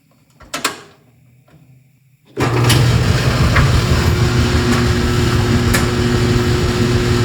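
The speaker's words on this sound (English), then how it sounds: "we have this industrial grade dryer that everyone knows and loves" A couple of clicks, then an industrial clothes dryer starts up and settles into a loud, steady mechanical hum and rumble with a tumbling drone.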